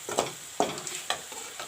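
Onions frying brown in a pan for a palak, potato and cauliflower dish, with a soft sizzle under three quick scraping stirs, close and moderate in level, with no talking.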